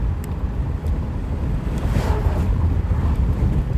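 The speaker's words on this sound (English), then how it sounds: "It's because I'm driving, going over a bumpy road." A car driving over a bumpy road, with a steady loud low rumble and wind buffeting the cabin throughout, and no voices over it.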